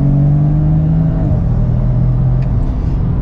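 A BMW fitted with a swapped DCT gearbox and single mass flywheel pulls away on a wet road with traction control on, its engine droning loud and steady from inside the cabin with a slight drop in pitch partway.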